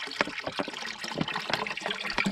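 Water trickles from a desert wildlife guzzler on the Mojave-Sonoran trail, a faint, irregular run of small splashes and dribbles heard close up without talk.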